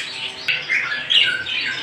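A Japanese budgerigar squawks in a few close, harsh bursts, raspy chirps rising and falling in quick succession with brief gaps between.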